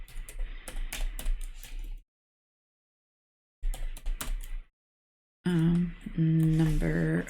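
Typing on an iPad keyboard, rapid soft tapping in two bursts separated by silence, followed by a voice speaking.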